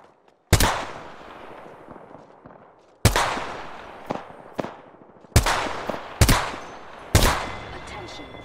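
Gunfire in the Apex Legends video game: five loud, sharp shots spaced a second or two apart, each with a decaying echo, plus a few fainter cracks between them.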